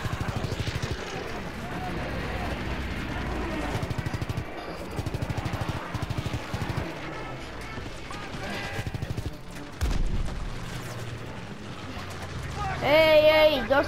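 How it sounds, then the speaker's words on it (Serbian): Gunfire in the Call of Duty WWII video game, rapid bursts of shots repeating through the clip under casual talk from players, with a brief louder burst near the end. "Ej, ej, dosta pucanja."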